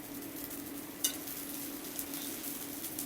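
Butter and ingredients for Dubai chocolate bars are stirred in a pan, a soft continuous scraping and light sizzle with a couple of faint utensil clinks, close and quiet with no talking.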